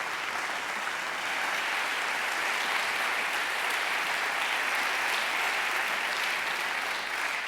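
An audience at the Premis Vinari awards gala for Catalan wines gives a sustained, dense round of clapping, steady and fairly close throughout with no voices.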